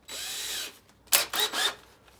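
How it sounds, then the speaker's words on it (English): An electric drill whirs for a moment, then gives a few shorter, sharper spins close by, used to remove a motorcycle handlebar grip. "And then I'm going to fit it into the drill."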